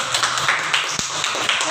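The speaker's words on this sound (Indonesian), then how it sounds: "Tepuk tangan buat Ferdi." Children clapping hands in a computer classroom, a short, brisk patter of small hands close by, fairly even and moderately loud, with a faint low hum behind.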